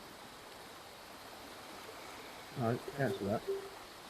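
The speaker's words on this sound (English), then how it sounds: "Water's ripping past me." Rushing stream water in a VR fishing game on the Oculus Quest 2: a steady, close broadband rush runs throughout, with a few spoken words briefly over it near the end.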